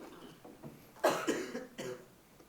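Several short coughs in a quiet lecture room, one loud burst followed by a few smaller throat-clearing coughs, close and alone.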